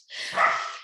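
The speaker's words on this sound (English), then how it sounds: "Please excuse my barking dogs in the background." A dog barks in a single drawn-out, yelping burst that lasts under a second, with other barks blurring into it, slightly distant.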